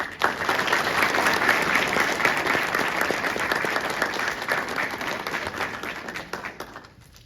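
A large crowd applauds awardees at an Army Engineer Basic Officer Leadership Course graduation ceremony at Fort Leonard Wood, with dense, sustained clapping that holds strong for several seconds before tapering off at the end.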